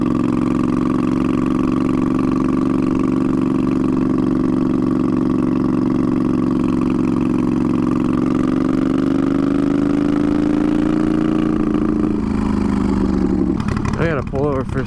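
Twin-turbo Moto Guzzi V50 III cafe racer cruising, a steady mid-pitched engine hum that holds even for most of the stretch, then drops and wavers near the end as the revs change.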